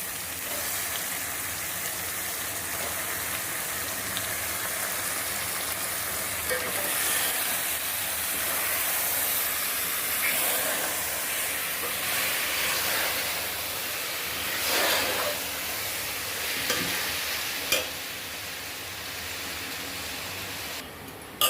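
Steady broadband sizzling of chicken frying in a pan for Tirunelveli-style chicken biryani, with occasional soft scrapes and clinks from stirring, no voices.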